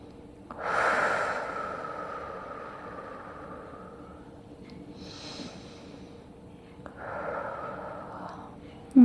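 Slow, deep breaths during a prenatal yoga session, a long airy inhale followed by a slow exhale and then another breath, close and soft.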